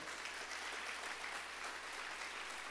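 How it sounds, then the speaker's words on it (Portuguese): A church congregation applauds during a service, with steady, even clapping that holds at a constant level for a couple of seconds and sounds faint and distant. "Dê um aplauso para o Senhor bem forte."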